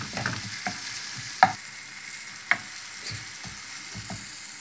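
Spiced eggplant mixture with garlic and lemon being stirred in a pan, with repeated spoon scrapes and a couple of sharp clacks over a low sizzle.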